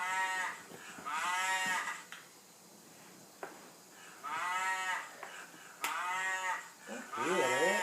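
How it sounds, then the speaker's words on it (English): Cattle moo repeatedly in a farm-animal sound sequence: four long, drawn-out moos with short quiet gaps between them, clear and fairly close, with no talking over them. "There's a cow right there."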